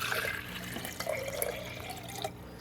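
Tap water running into a small container while doing a water change for a betta fish jar, a steady splashing trickle with light drips, close by and without talk.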